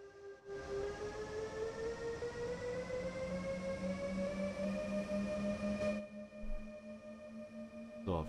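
A freight train in Train Sim World 3 eases off after the brakes are released, its rising electric motor whine climbing steadily in pitch over a low rumble, loud and continuous with a brief break near the end.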